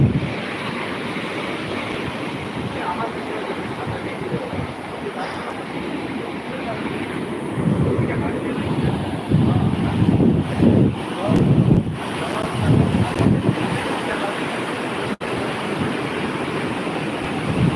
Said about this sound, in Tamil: இது வந்து குளச்சல் பகுதி கடற்கரை